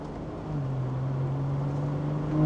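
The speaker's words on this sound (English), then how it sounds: "You can hear that the valves automatically open around 3000 RPM" The exhaust of a BMW G14 840i with catback, downpipe and stage 2 tune drones steadily at low pitch, exhaust valves opening around 3000 RPM, rising slightly in intensity toward the end, with a continuous engine hum and no talking.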